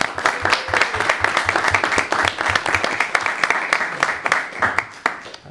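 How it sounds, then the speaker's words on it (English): A crowd at a school committee meeting applauds steadily, dense overlapping hand claps sustained throughout with a slight tapering toward the end. "we can certainly have a round of applause for them"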